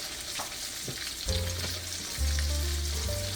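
Chicken fried steak sizzles and crackles in a hot frying pan, a steady frying hiss with a few clinks and scrapes of stirring, close up and without voices.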